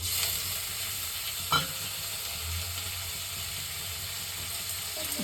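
Onion, chilli and tomato fry in a pan for masala dosa filling, giving a steady close sizzle with a brief scrape of stirring partway through.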